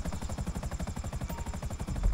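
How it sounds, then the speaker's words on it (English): A Buzzard attack helicopter in Grand Theft Auto V thrums with fast, even rotor chops over a steady engine drone, loud and close for the whole stretch, with no talking over it. "Oh, you got the buzzard? Awesome."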